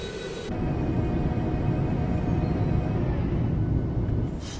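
Landing gear lowering on an iFly Boeing 737 MAX in Microsoft Flight Simulator 2024, a deep, steady rumble that rises abruptly and holds for several seconds before easing off, with no voices.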